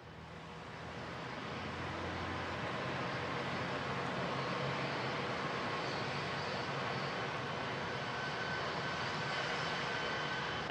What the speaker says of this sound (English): But Scott Kelly in the NASA plane taxiing on the runway now down at Ellington in Houston.